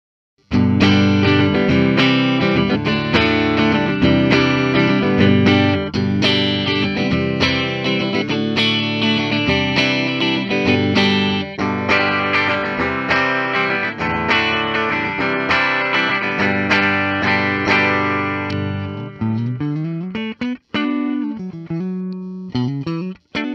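A Fender American Vintage II 1975 Telecaster plays distorted continuous chords and notes with effects, loud and sustained, ending in a few sparse plucked notes.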